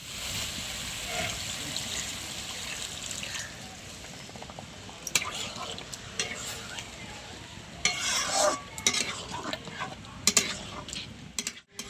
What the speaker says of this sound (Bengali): ডিম কষানো হয়ে গেছে, সামান্য জল দিয়ে দেবো।